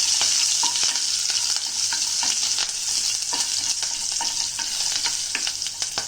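Chopped ginger, slit green chillies and fenugreek seeds sizzle in hot oil in a pan while being stirred, with a steady frying hiss broken by repeated spatula scrapes and taps.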